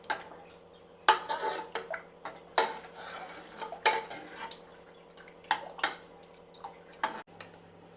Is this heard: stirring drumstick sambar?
yes